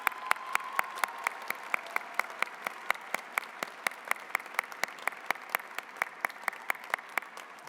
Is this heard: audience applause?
yes